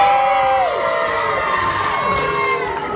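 Crowd cheering and whooping at an outdoor lumberjack show, with children's shouts mixed in, sustained and loud for several seconds after a competitor's point.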